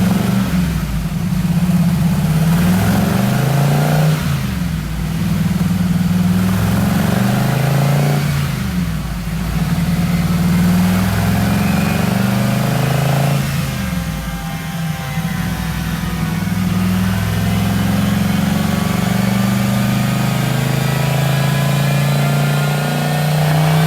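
A twin-turbo LSX V8 in a 1979 Trans Am roars on a dyno, loud and close, with repeated revving pulls rising and falling and a sustained high-rpm run toward the end.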